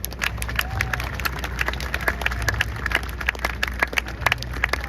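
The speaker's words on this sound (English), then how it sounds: "Please, another round of applause." A crowd at an outdoor ceremony in Times Square, New York gives a round of applause for a senator: dense, continuous clapping of many hands with scattered faint cheers and background street hum, fairly near and steady.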